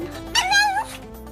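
A pet cat meows a single drawn-out, rising and falling call that sounds a little like "I love you", loud and close, heard alone with no talking.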